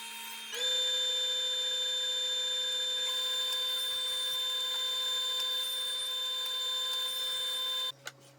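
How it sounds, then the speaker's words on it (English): Table saw spinning up and running at a steady, loud whine while ripping bookcase parts to width, then winding down at the end. "I get started over at the table saw, ripping all the parts to their width."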